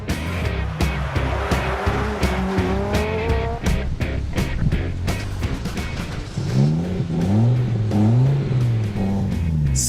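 Rally cars race at the 2008 Rally Germany, engines roaring and revving loudly with rapid gear changes, tire squeals and skidding, the blaring engine noise continuous throughout.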